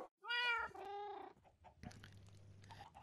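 A cat in Minecraft gives a short clear meow, followed by quiet clicks and a low hum, near and faint overall.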